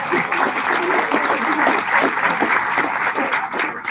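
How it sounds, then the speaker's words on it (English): Room full of people at a civility project launch event applauds in a dense, sustained wash of clapping that holds steady for several seconds. "let's give them a big round of applause"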